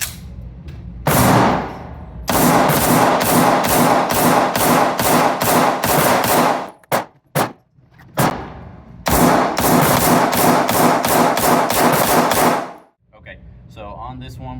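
Pistol fire with 124-grain training ammunition, loud and close, comes in two long rapid back-to-back strings of sharp shots, split by a short gap with a few isolated reports.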